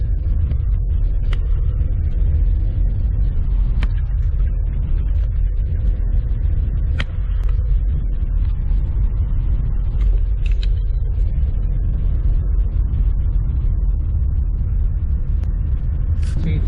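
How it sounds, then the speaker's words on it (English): Four-wheelers rumble along a dusty road in a wildlife management area, a steady low engine drone close by, with scattered light clicks and knocks above it. "Oh, and there's some four-wheelers."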